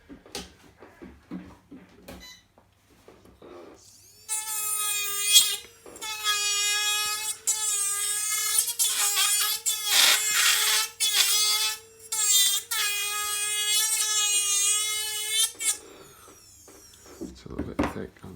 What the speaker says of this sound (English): It's a little bit thick, I'm just going to use a cutter to get that off.